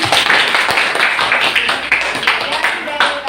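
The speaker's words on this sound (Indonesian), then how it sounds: "Kita beri tepuk tangan dulu ya buat kelompok 4." A classroom audience applauds a student group after a presentation on arithmetic sequences. Dense, continuous clapping holds for several seconds, and voices can be heard faintly beneath it.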